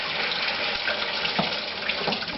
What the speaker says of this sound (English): we're going to use some lukewarm water to rinse them